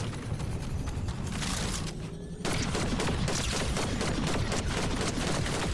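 Continuous rapid gunfire in Fortnite, dense crackling bursts of shots layered with booms, briefly dipping before resuming louder.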